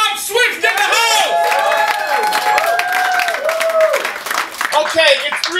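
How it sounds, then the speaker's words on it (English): A crowd applauding loudly for a DJ, with clapping mixed under whoops and shouted cheers that rise and fall throughout. "A round of applause"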